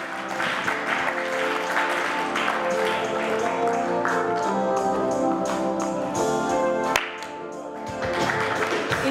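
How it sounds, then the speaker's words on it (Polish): Sustained applause from a pageant audience at a Miss Polonia USA contest, a dense wash of many hands clapping that holds steady for several seconds with a brief dip near the end. "Brawa dla kandydatki numer 10."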